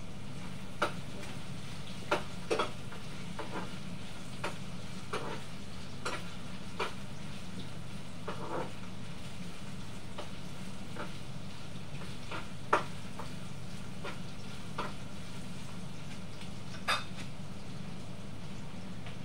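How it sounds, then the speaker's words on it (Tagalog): Beef offal filling fries and sizzles steadily in a pan, with scattered spoon-and-pan clinks and taps as it is stirred until browned. "Haluin natin. Hanggang sa maging brown siya po."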